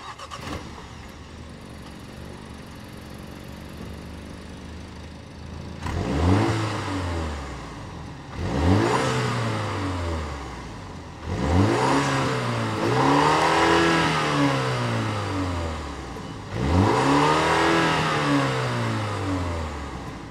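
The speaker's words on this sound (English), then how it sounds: "let's fire up this 2-liter turbocharged 4-cylinder engine, and here she sounds" The 2-liter turbocharged four-cylinder engine of a 2025 BMW X1 xDrive28i starts up and settles into a low idle. It is then revved four or five times in distinct, rising-and-falling bursts, heard close and loud with no talk.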